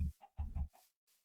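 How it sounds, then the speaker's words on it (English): Chickens in Minecraft give a few short, close clucks in quick succession, clear and isolated against silence. "I got some chickens just kind of run around there."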